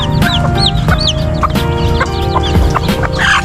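Chickens cluck continuously with newly hatched chicks peeping among them, close and fairly loud, in a small backyard poultry pen.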